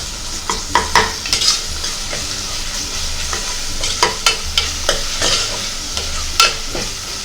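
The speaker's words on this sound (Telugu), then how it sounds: "1 టీ స్పూన్ అల్లం వెల్లుల్లి పేస్ట్ వేసుకోవాలి. బాగా మిక్స్ చేసుకోవాలి." A metal spoon scrapes and stirs ginger-garlic paste, fried onions and turmeric in a hot pan for mutton masala curry, giving irregular close scraping strokes over a steady soft sizzle of frying.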